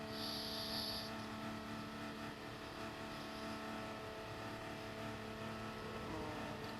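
Race car engine in a sim racing game at Monza, a steady drone with harmonic whine holding through the clip, a car coming by as another coasts, with a brief high tone near the start and no talk.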